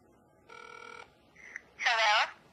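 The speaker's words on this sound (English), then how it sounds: "we're just calling my sister right now" An Android app places a phone call over Wi-Fi: a short steady tone plays, then a brief blip, then a louder warbling electronic ring, all close and clear, and a voice is faintly present.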